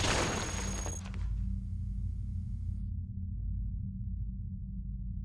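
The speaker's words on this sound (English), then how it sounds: "Let's pop a grenade about there." A grenade explodes in the robot video game Cogmind: a sharp, bright blast at the start that fades into a low, rumbling tail lasting several seconds.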